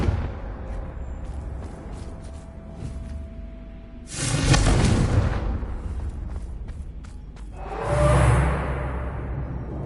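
The Confringo fire spell in the video game Hogwarts Legacy fires twice, each cast a loud rushing whoosh that swells into a booming blast and then fades, with a softer rumble between the two.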